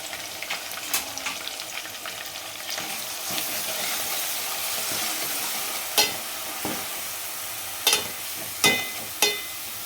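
Ground onion and garlic sautéing in oil with mustard seeds and curry leaves for a fish curry, a continuous close sizzle with a few sharp clinks of a spoon against the pan near the end, no voices.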